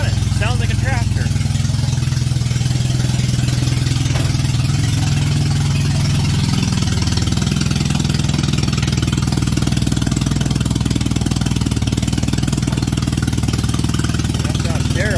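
A rough Honda K-series engine swapped into an EG coupe runs steadily up close, a deep low rumble with a chugging, clattering, tractor-like texture that carries on throughout.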